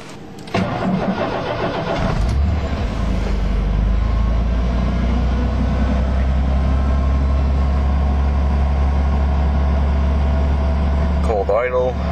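A 1989 Ford F150 with the Big Six engine cranks over in December cold, catches after about a second, then settles into a loud, steady close-up idle until a brief clatter at the end.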